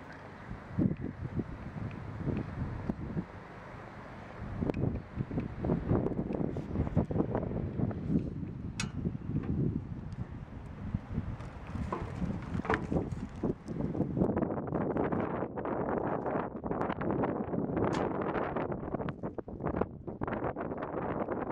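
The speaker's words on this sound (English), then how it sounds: "it's so windy today" Gusty outdoor wind buffets the microphone for the whole stretch, a loud broadband roar that swells and eases in waves, with faint rustling mixed in and no talking.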